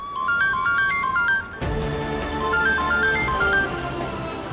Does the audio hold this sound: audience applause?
no